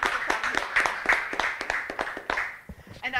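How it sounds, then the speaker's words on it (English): A small audience at a conference on migration and mobility e-learning programs gives a short burst of clapping, distinct individual claps rising and falling unevenly before tapering off near the end. "This is an extra applause."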